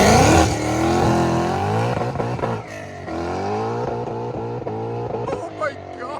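A supercharged Ford Mustang GT 5.0L V8 with headers and a Legato axle-back exhaust launches hard, its loud engine note rising through repeated upshifts and dropping between gears, close and dominant for several seconds.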